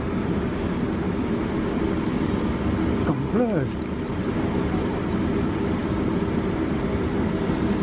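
Steady, loud rumble and rattle of a moving train heard from inside an empty carriage on a lunchtime ride back to Wolverton, with a brief squeal partway through and a voice speaking.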